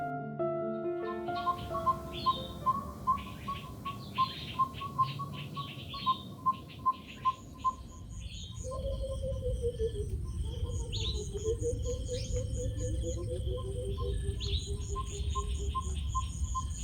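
A Burchell's coucal calls from deep inside a bush with a bubbling, descending series of low hooting notes, close and clear, following a run of rhythmic clicks and chirps amid crickets and other birds.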